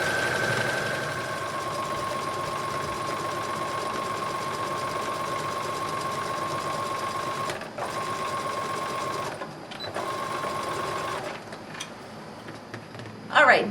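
Sewing machine running steadily as it stitches along the fold of an apron at a 5/8 inch seam, a close, continuous mechanical whir that stops briefly twice before resuming and then ending.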